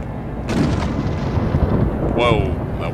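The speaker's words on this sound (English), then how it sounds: "that was a very loud thunderclap" A loud thunderclap in the video game Shadows of Doubt bursts in suddenly and rolls on in a heavy rumble, with a brief tonal effect sounding near its end.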